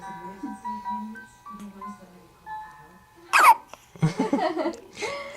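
A three-day-old newborn baby hiccups in sharp, loud bursts near the middle and end, while an adult speaks softly in a sing-song voice between them.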